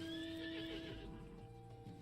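A horse in the video game Final Fantasy XIV gives a loud, wavering whinny, followed by softer snorting and clattering hooves over steady background noise.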